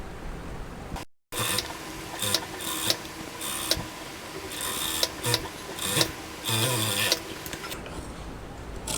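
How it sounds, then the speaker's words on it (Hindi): A sewing machine stitching the side part of a boat-neck designer blouse, running in short rattling bursts with ticking mechanical rhythm and brief pauses, close up with no talk. "इसे भी हम ऐसे स्टिच कर देंगे यहाँ पे एंड इसे टर्न कर देंगे"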